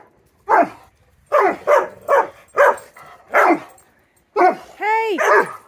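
A dog barks in short, sharp bursts, about seven in a row with brief pauses, fairly close, ending with a higher yip or whine.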